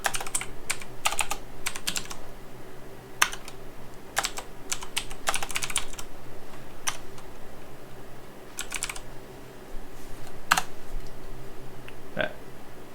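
Fingers type on a computer keyboard nearby, a steady stream of crisp key clicks in uneven bursts with short pauses, over a faint background hum.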